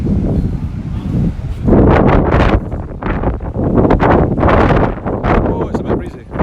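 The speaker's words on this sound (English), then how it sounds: "Sorry if the audio is getting a wee bit blustery right now, it's just because the wind is pretty strong." Strong wind buffets a microphone on an Edinburgh street, loud rumbling gusts rising and falling throughout, with a person talking underneath.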